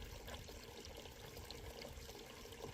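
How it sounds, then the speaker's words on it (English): Water flows steadily and faintly through a small stone garden fountain, a soft, continuous trickle and splash with no pauses or voices. "I also love the peaceful sound that the flowing water makes."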